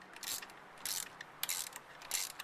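Ratcheting on the nuts of a passenger-side motor mount on a 2005 Ford Focus, four short bursts of quick metallic clicking separated by brief pauses, close and fairly quiet with no talk.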